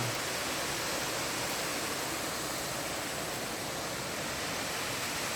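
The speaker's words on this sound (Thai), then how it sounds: "ผมจะปล่อยเสียงธรรมชาติของน้ำตกจริง ๆ" Steady roar of the Tat Heuang waterfall, about 10 meters high and 20 meters wide, a dense unbroken rush of falling water with no other sounds.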